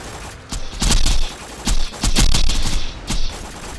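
Bursts of Pimpernel sniper rifle fire from Borderlands 2 crack out in quick clusters, loud and close, separated by short gaps of quieter game ambience.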